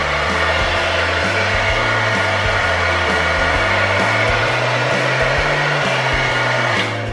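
A hair dryer blows steadily and loudly for the whole stretch while a brush lifts hair upward, its hum shifting in pitch as the airflow is moved around.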